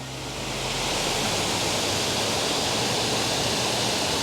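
A waterfall below a steep cliff above a river gives off a steady, full rushing roar that swells in over the first second and then holds constant with no voices.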